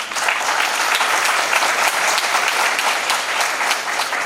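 Audience applause at a national seminar in a law college, a dense, steady wash of many hands clapping at full strength for the whole stretch, with no voices standing out.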